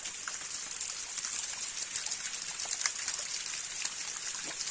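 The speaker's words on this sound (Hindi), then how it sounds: "समराला वाटरफॉल" Samrala waterfall, a small fall roughly one storey high in the Samahni Valley, flows as a steady rushing wash of falling water with a few splashy spikes, even and moderately loud without talk.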